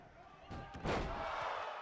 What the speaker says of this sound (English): Jinny now slamming the back of the head of Brookside into the mat